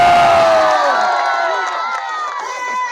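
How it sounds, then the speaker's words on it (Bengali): A crowd at a village football match in Faridpur cheers loudly after the champion team is announced, a bright burst of shouting and whooping that fades over a few seconds. "জোরে করতালি হয়ে যায়।"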